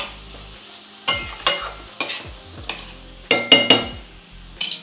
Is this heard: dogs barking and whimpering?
no